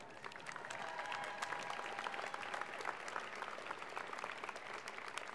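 Graduates' families and guests applaud at a university diploma ceremony, a sustained, even wash of clapping from a large crowd, heard at a moderate distance without any voices.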